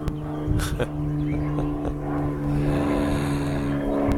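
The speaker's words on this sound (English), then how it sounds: "But as you can hear, there is an aeroplane flying over." An aeroplane passes high overhead in a quiet natural setting, a steady, moderately loud droning hum that lasts throughout, with a few faint clicks and rustles nearby.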